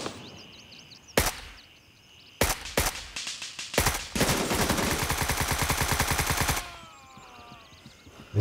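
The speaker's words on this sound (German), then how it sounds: "Jetzt hast du geschossen, ne?" Gunfire in Gray Zone Warfare, with a few sharp single shots followed by a sustained rapid automatic burst of close, loud cracks.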